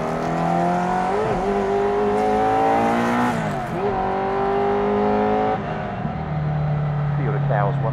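A Ferrari 308 GTB Group B rally car engine revs and climbs through gears with rising and falling pitch, loud and close, with brief shifts and tire noise.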